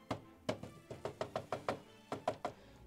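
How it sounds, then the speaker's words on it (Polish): Irregular hollow knocks on wood, about a dozen in all, come in uneven bursts with short pauses between them, moderately close and with no voices. "No nie, coś tam puka."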